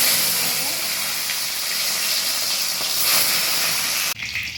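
Paneer fries in hot oil in a kadai with a loud, steady hissing sizzle that continues for about four seconds and then cuts off abruptly.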